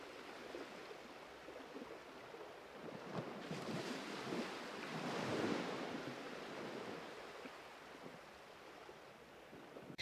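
Beach waves wash in as a soft, continuous surf rush with a gentle swell in the middle, fairly quiet and alone, with no voices.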